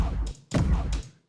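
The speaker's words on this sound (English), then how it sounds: "an introductory blast right here." Introductory blast sound effect opening the driving shots of a GT3 racing-car cinematic: two heavy, booming hits, the second louder, each with a brief bright noisy burst, close and unaccompanied.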